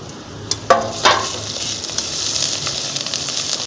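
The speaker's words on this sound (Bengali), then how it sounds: "এবার একটু লাল লাল করে ভাজা ভাজা হয়ে গেল। এবার এই যে আদা রসুনটা দিয়ে দিলাম।" Chilli, onion and bay leaf sizzle in hot oil in a kadai, with a few sharp clatters as ginger and garlic go in, followed by a steady, close frying hiss.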